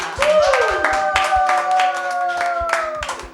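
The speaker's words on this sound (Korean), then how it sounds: "오늘도 풍성한 소식을 주신 하나님께 감사의 박수 올려드립시다" Congregation clapping in thanks during an online Sunday worship service, a steady burst of close, dense handclaps over sustained keyboard chords.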